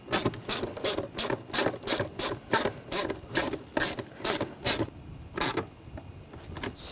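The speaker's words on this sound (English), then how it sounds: "Tighten the worm clamp down." A worm-drive hose clamp is tightened on a BMW 328i xDrive 3.0L I6 intake snorkel, with a rapid, rhythmic clicking of a ratcheting tool in steady bursts that pauses briefly and resumes, close and clear.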